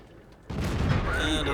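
A heavy tank gun fires from a Tier 4 medium tank in a tank battle video game, one sudden loud deep boom that swells into a sustained rumbling roar with ringing metallic overtones.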